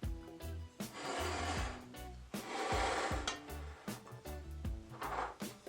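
Dry ingredients (flour, sugar and baking powder) worked through a sifter for a Jamaican spiced Easter bun, giving repeated rhythmic rasping and scraping strokes with soft metallic rattles, fairly close and without voices.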